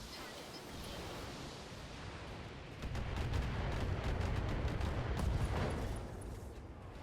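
Long-range Gauss rifle and missile fire from a mech in the Thorium Mercs video game, a dense roaring barrage that swells louder midway and holds steady, then eases slightly at the end, with no talk over it.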